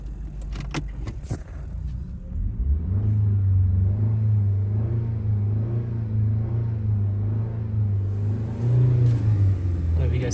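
A 2005 Honda Civic engine, freshly treated with Seafoam, rumbles and rises in revs as the car backs out of a smoky garage into the driveway, loud and close, with a few light clicks and jingles at the start.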